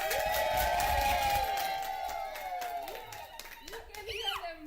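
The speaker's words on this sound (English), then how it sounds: "can hear them cheering, Carol." Sundowner radio show fans at a charity gathering in Kenya clap and cheer, a steady patter of hands and crowd noise mixed with a voice and sung tones, fading toward the end.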